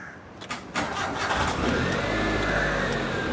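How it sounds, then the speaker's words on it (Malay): A flood-damaged car engine cranks briefly with a few clicks, then catches and settles into a steady, rising idle rumble nearby. "Okey, hidup enjin."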